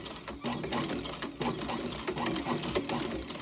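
Sewing machine stitching a casual shoe during boot repair, a steady mechanical whir with rapid needle clatter running throughout, with a couple of brief pauses in the rhythm.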